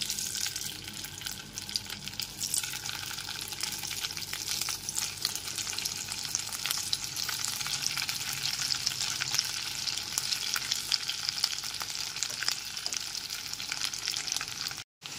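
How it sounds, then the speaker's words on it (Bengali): Boiled potato pieces frying in hot refined oil give a loud, dense, continuous sizzle and crackle close by, with no voices, cutting off abruptly at the end. "তেলটা এখানে খুব ভালো করে গরম হয়ে গেছে। এরপর এর মধ্যে সেদ্ধ করা আলু টুকরোগুলোকে দিয়ে দিচ্ছি।"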